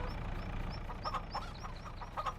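Chickens cluck in a Farming Simulator coop, a run of short chirpy clucks growing busier toward the end, soft and steady with no talk.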